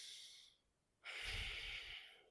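Audible breathing demonstrated by one person, a soft noisy intake followed by a louder, breathy rush of air lasting about a second and a half, close to the microphone, with no talking.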